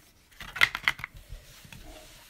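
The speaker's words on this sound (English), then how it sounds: "I'm going to take these smaller scissors because I think the kids could even cut this" Small scissors snipping through a plastic Easter basket, three or four quick close cuts followed by soft handling rustle, quiet overall.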